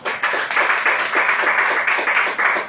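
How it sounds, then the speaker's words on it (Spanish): A church congregation breaks into sustained applause, a dense wash of many hands clapping loudly and continuously with slight swells. "Denle un aplauso al Señor."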